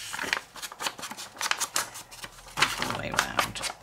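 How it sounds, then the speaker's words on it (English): Paper torn by hand at the corner of a junk journal envelope, a series of short, dry rips and crinkles up close, with a soft voice speaking briefly between them. "Tear the corner."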